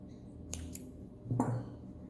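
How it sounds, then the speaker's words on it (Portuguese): Scissors snipping excess yarn on a crocheted amigurumi figure, a couple of quick crisp close snips followed by one sharper cut, over a quiet room background. "Posso cortar esse excesso."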